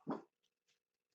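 A dog gives one short, quiet whimper, followed by a couple of faint, brief whines trailing off in an otherwise silent room.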